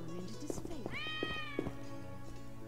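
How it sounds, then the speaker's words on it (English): A cat in The Witcher video game lets out a single drawn-out meow over in-game music and ambience, with a voice talking around it. "I heard a cat."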